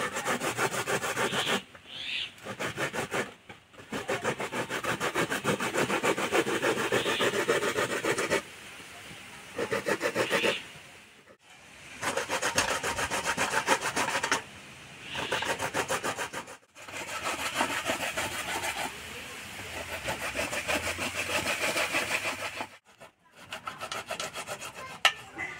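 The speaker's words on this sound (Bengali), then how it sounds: "আমার এই ফুটো থালাটা কিন্তু খুব ধার আছে" Elephant foot yam grated on a sharp perforated metal plate in a home kitchen, heard as continuous loud rasping scrapes in long steady strokes with brief pauses in between, close up and with no talking.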